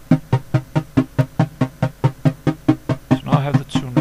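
An LMMS synth arpeggio repeats a single note rapidly, producing an even, fast train of short plucky synth hits about five per second, with a brighter buzzy swell near the end, clean and alone.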